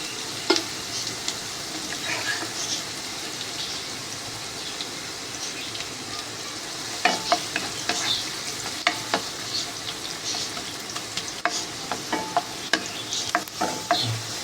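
Chopped onion fries in hot oil as chickpeas are prepared for tempering, a steady soft sizzle running throughout, with sharper crackles and stirring scrapes clustering in the second half.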